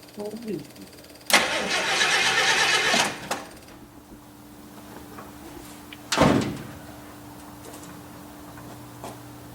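A 1963 International Harvester Travelall C1100 engine is cranked, giving a loud burst of about two seconds, then a quieter stretch and a second short crank attempt. Voices talk around the cranking.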